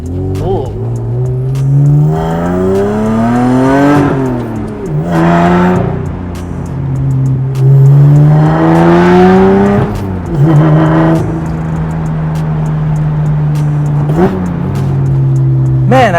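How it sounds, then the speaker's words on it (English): A Ferrari F12 drives past outside a Lotus Evora, its engine rising in pitch through several revving pulls, loud and close, with talk over parts of it. "that Ferrari that just drove by"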